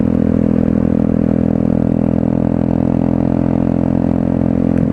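Loud, constant roaring wind buffeting a clip-on lapel mic on a rider of a 125cc street motorcycle, a dense low rumble that never lets up for the whole stretch.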